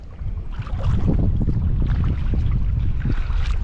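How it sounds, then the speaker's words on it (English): Wind gusting across open water beside a boat in south Louisiana, a steady loud low rumble that buffets the microphone with no talking. "That old wind picking up."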